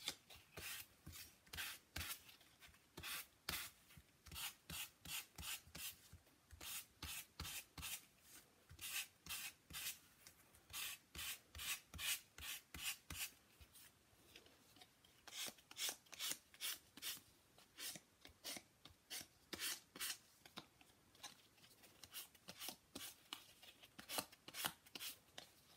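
Rhythmic rubbing of a nail file sanding the surface of rubber stamps, quick close strokes repeating steadily in bursts with brief pauses, no talking.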